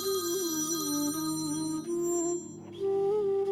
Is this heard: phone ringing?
yes